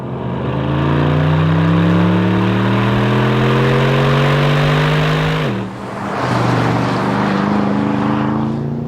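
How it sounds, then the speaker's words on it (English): Aston Martin DBX SUV with a 4-litre twin-turbocharged V8 accelerating hard, loud and close, its engine note climbing steadily through a long pull before a brief dip at the gear change, then rising again. "because it shares a 4-litre twin-turbocharged V8 with the DB11, it still shifts"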